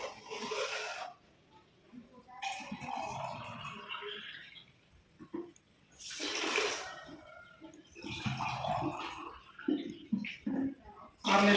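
Water pours and splashes in a few bursts onto sugar, with pauses between, close by and fairly soft.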